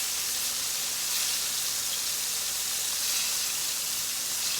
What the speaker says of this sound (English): when I put it in that hot grease